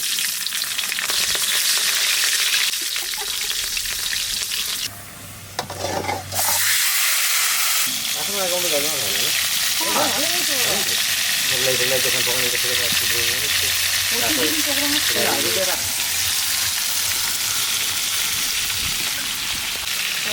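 Black cumin seeds and green chilies hiss and sizzle loudly in hot oil, a continuous bright frying roar with a brief dip midway, while a voice talks intermittently over the cooking.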